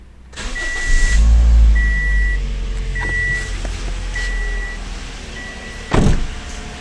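A Toyota Corolla engine turns over and settles into a steady mid-pitched idle after a valve cover gasket replacement, with a short electronic chime repeating several times and a sharp clunk near the end.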